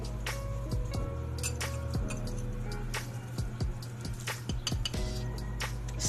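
Salt being stirred into a glass of water, a spoon clinking and tapping against the glass in quick irregular strikes over a steady low hum.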